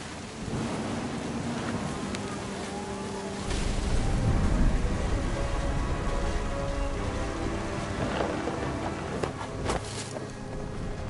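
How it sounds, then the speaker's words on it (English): Heavy rain pours steadily in a thunderstorm in the video game What Remains of Edith Finch, and a deep rumble of thunder swells midway before the downpour carries on. "The thunder sounded much too close and full of angry power"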